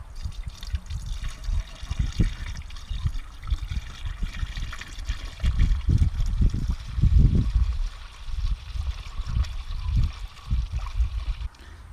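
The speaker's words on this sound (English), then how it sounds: "it's about halfway full, and it's draining slowly" Coolant drains slowly from a Toyota MR2 cooling system, trickling and gurgling near the listener in uneven low splashes that rise and fall for several seconds.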